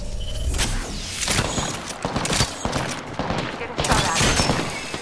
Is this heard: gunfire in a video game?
yes